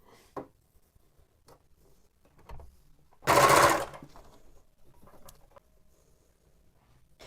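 An overlocker sewing machine stitching knit fabric gives one short, loud whirring burst of about a second in a quiet room, with faint taps and small rustles before and after.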